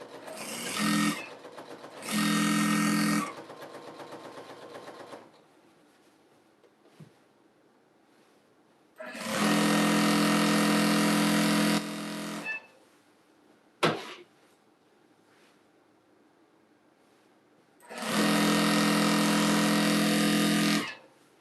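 Basic Janome sewing machine stitching through a thick jelly roll rug, several loud whirring bursts of stitching separated by quieter gaps with small clicks and handling noises.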